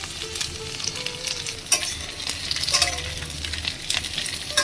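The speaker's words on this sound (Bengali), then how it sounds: "পটলটা দিয়ে হালকা ভেজে নিয়েছি এবার ঝিঙেগুলো দিয়ে দিচ্ছি" Ridge gourd frying in a pan, stirred steadily, with a continuous close sizzle broken by scraping stirs and occasional louder clatters of the spatula.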